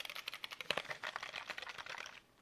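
Rapid typing on a Keychron K9 mechanical keyboard: a dense run of crisp, close key clicks and clacks at an uneven, quick pace, stopping just before the end.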